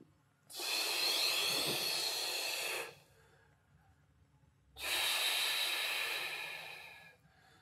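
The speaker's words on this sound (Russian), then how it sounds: "Прямое дыхание." Steady breathing during a physical training exercise: two long, close, hissing breaths through the nose or mouth, each lasting a couple of seconds, with a quiet pause between them.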